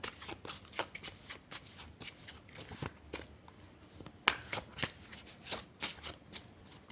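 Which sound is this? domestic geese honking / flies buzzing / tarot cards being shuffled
tarot cards being shuffled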